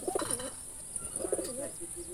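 A male black Jalali pigeon coos twice in close, rolling phrases, with a steady high electrical whine in the background.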